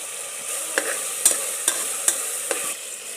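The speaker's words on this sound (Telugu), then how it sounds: "మిరియాలు, పచ్చిమిర్చి, ఆనియన్స్ వేసి బాగా ఫ్రై చేసుకోవాలి." Peppercorns, green chillies and onions fry in a pan with curry leaves, a steady sizzle broken by several sharp clinks of a spoon stirring against the metal, close and clear with no talking.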